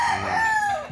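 A rooster crows loudly and close by in one sustained, wavering call.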